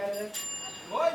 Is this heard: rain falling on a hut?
no